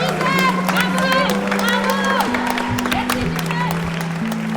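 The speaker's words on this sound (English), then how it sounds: "this bursting out of applause of women who lined her path" Women lining the path outside a court burst into applause that goes on throughout, a dense crowd of clapping and cheering voices with a sustained tone running underneath.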